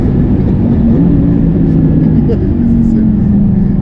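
Audi R8 sports car on a race track, a loud steady engine drone from inside the cabin, continuous throughout with no clear gear changes.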